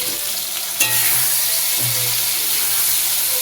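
Slit green chillies drop into hot oil for a fish curry, setting off a sudden louder burst of crackling sizzle that settles into a steady frying hiss, with a couple of low knocks from the pan.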